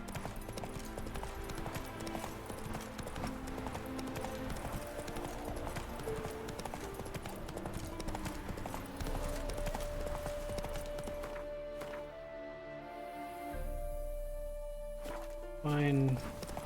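Hoofbeats of Roach, the horse in The Witcher 3: Wild Hunt, clip-clop steadily under game music and ambience, with a brief whinny near the end; the hooves sit mid-distance and partly blend into the soundtrack.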